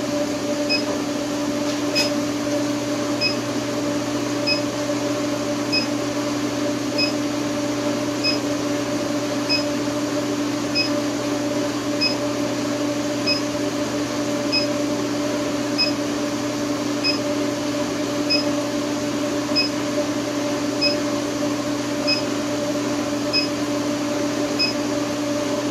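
A running induction forge gives off a steady electrical hum with a constant tonal drone and faint high-pitched periodic ticking, loud and unchanging throughout, with a single brief click near the start.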